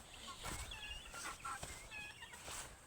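Hens cluck in short, scattered bursts against a steady background hiss, close by, with no talking.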